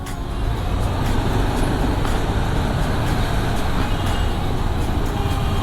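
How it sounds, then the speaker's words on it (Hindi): Heavy morning traffic in Mumbai forms a dense, steady roar of engines and road noise with faint horn-like tones on top, continuous and fairly loud with no break. "काफ़ी भयानक ट्रैफिक,"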